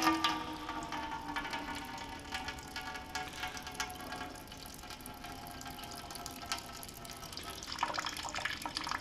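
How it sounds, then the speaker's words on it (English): Water trickles and splashes through RV gray water tank plumbing just after a shower drain test, a steady close-up flow of running water that swells a little near the end. "Oh, there we go, a little water coming out."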